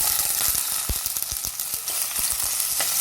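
Cubed elephant foot yam frying in hot oil, a steady loud sizzle close by with crackling bursts and stirring scrapes throughout, no voices.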